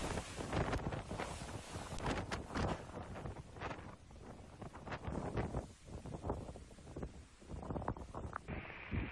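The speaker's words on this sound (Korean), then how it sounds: "필리핀의 여러 지역에 22일 태풍이 들이닥쳤습니다" Typhoon winds hit the Philippines: strong gusting wind roars and buffets the microphone in heavy, uneven surges throughout, with no voices.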